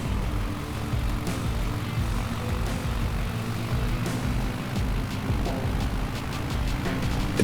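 A light propeller aircraft taxiing in Microsoft Flight Simulator 2020 gives a steady low engine drone with a buzzing propeller hum. It runs continuously at an even level, with faint ticks scattered over the top and no talking.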